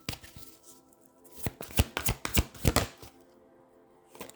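A tarot card is drawn from the deck during a career reading, heard as a run of close, crisp card slaps and rustles in quick succession with no talk over them.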